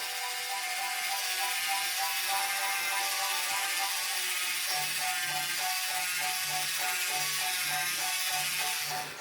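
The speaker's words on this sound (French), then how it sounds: "Nous allons utiliser la fraise pour essayer de retirer la carie." A Play-Doh toy dentist drill whirring continuously, a steady buzzing mechanical drone with a faint ratcheting grind and a slight pulsing change partway through.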